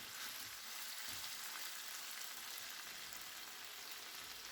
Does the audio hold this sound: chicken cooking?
yes